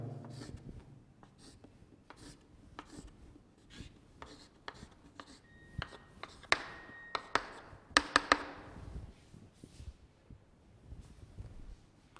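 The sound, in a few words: writing out a chemistry formula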